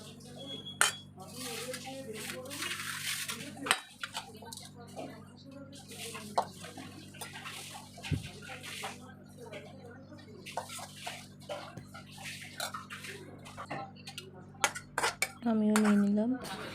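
A spoon serves okra (bhindi) curry out of a cooking pot. It makes scattered metallic clinks and scrapes, with a brief squeaky clatter near the end, over faint background noise.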